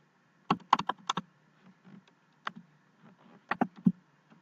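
Short bursts of typing on a computer keyboard in Excel, a few quick clusters of key clicks separated by brief pauses, close and quiet with no talking.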